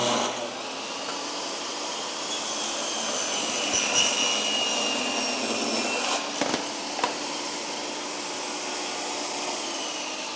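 A table saw cuts oak-veneered plywood with a steady, loud whining roar that holds for about ten seconds, with a few faint knocks partway through.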